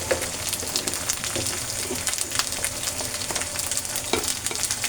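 Ground turmeric, coriander, cumin and dried chilli powders fry in hot oil in a pan for a prawn and vegetable dish, giving a steady close sizzle with scattered crackles and a few stirring scrapes, no talk.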